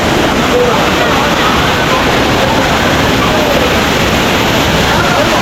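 Suruli Falls, a waterfall in Theni, pours with a loud, dense, unbroken roar of rushing water that fills the whole clip from near by.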